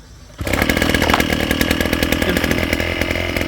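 A landscaper's two-stroke brush cutter is started and then runs loud and steady close by, a harsh, continuous engine buzz with no speech.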